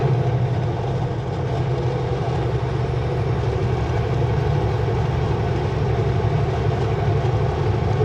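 A heavy Canadian National freight train with three engines rumbles steadily on an overhead track nearby, a continuous low drone of engines and rolling cars with no voices.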